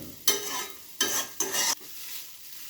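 Thick flattened rice poha is stirred in a pan over low heat, three distinct scraping strokes in quick succession, close and clear, with a faint sizzle between.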